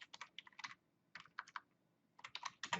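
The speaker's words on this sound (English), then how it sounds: "by typing in your description, apple juice" Typing on a computer keyboard, with quick bursts of close, crisp key clicks in uneven clusters separated by brief pauses, heard alone.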